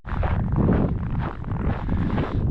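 Strong wind blows steadily and loudly across the microphone on an open walk heading east in Labrador, a continuous buffeting roar with gusts rising and falling throughout.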